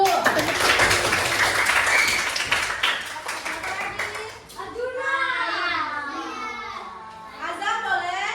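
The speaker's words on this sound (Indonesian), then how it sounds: "Tepuk tangan dulu." Children in an Indonesian classroom clap together for a classmate. The clapping is busy and fairly loud for a few seconds, then gives way to children's voices talking nearby.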